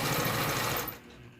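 Sewing machine stitching a seam on curling fabric, a fast continuous mechanical whir close up that stops abruptly near the end.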